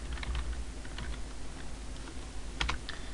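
Rapid keystrokes on a computer keyboard while configuring an Ubuntu server, close clicky taps in short bursts with a brief louder cluster near the end, no speech.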